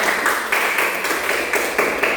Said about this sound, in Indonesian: kalau kita tepuk tangan dulu yang satu